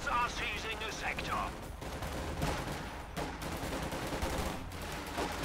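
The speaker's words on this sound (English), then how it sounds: "There's a bit of shooting going on here." Distant gunfire crackles in the World War II strategy video game Company of Heroes 2, a continuous battle din of rifle and machine-gun shots under busy in-game noise.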